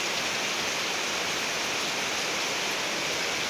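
Heavy rain pours in a steady, dense hiss near a mosque, a continuous loud wash of water with no voices.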